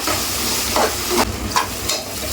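Tomatoes sauté in a pan over a medium flame, giving a steady frying sizzle with several soft stirring scrapes across a short stretch and no voices.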